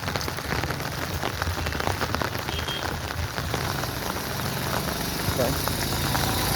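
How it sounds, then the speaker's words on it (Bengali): Heavy rain pouring down in a steady, dense hiss with a constant low rumble underneath, while a voice talks over it. "এত বৃষ্টি হচ্ছে"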